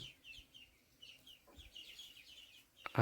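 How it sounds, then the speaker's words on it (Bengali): Chickens and ducks with ducklings in a backyard poultry area at a home give soft, scattered clucks and chirps at low level, with a brief louder knock near the end. "এখানে আমাদের হাঁস মুরগি থাকে, দেখো এখন হাঁস বাচ্চাগুলো আছে"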